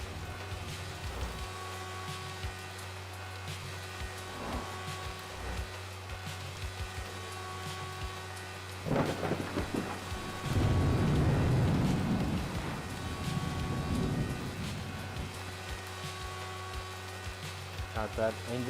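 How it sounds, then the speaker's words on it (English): A video game motorcycle engine drones steadily with a tonal hum throughout, growing rougher and louder in the middle as it revs, while a person talks over it at times. "God, that engine sound is annoying."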